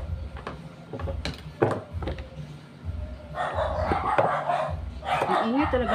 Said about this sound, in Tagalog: Maingay talaga ng mga aso dito.